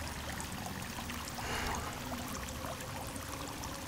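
Water flows steadily in the video game Sons of the Forest, a constant soft rushing stream with no voices, swelling slightly in the middle.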